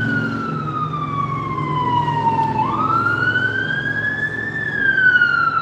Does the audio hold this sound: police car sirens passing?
yes